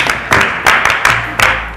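An audience at a youth event claps in a steady, rhythmic beat, about three claps per second, fairly close and loud with no talking over it.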